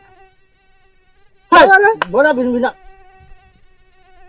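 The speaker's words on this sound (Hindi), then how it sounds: "आज जीजा बहुत मच्छर लागा था" Mosquitoes give a loud, close, whining buzz that wavers in pitch for about a second in two bursts, then fades, with a brief voice nearby.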